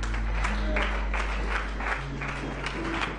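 A church congregation applauds steadily in rhythmic clapping, with faint voices and a low hum underneath, fairly quiet and evenly paced.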